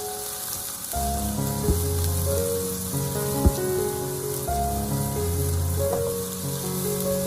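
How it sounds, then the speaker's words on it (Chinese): Green and red peppers hit hot oil with ginger and garlic in a wok over high heat, a steady loud sizzle with a few sharp clacks of the spatula as they are tossed, and music playing underneath. "再把青红椒加进来，开大火，快速的给它翻炒均匀"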